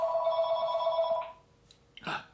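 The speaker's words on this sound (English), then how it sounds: "A phone call." A telephone rings with a bright, sustained electronic trill for about a second, then falls silent, followed by a brief rustle or faint voice sound.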